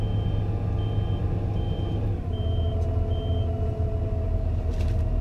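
A Fendt tractor gives steady reversing beeps once reverse direction is selected, a faint tone above a loud, constant engine rumble from inside the cab.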